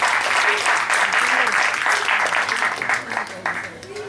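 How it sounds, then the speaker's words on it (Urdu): Sustained audience applause at an Urdu poetry reading honouring a poet, a dense steady clapping wash from a seated crowd lasting the full few seconds, close and fairly loud. "نظم سماعت فرمائیے آپ کی تالیوں کے ساتھ۔ الماس شبانی"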